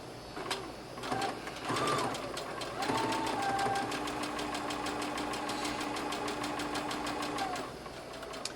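A sewing machine runs a straight stitch along a pressed half-inch rolled hem on an everyday dress, a steady rapid needle clatter that starts after a few brief bursts and holds close and even for several seconds.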